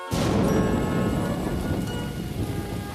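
Steady heavy rain pours down with a deep rumble of thunder rolling underneath, continuous and enveloping.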